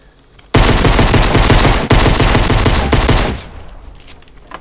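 Pistol fire in Fortnite Battle Royale, a dense, loud burst of rapid shots for about three seconds, briefly broken once, then fading into quiet.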